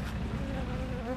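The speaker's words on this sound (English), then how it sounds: "All the bees are still around there" Honey bees gathering around a honey extractor left outdoors, producing a steady close buzzing drone throughout the brief moment.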